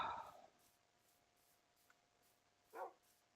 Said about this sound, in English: Creepy dog.